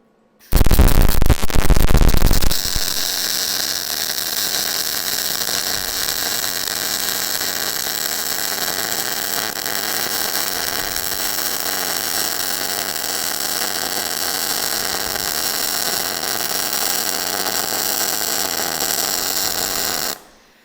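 An Omni Pro 220 wire feed welder lays a bead with a sharp crackling burst at the start, then a steady loud hissing buzz held for about seventeen seconds before stopping.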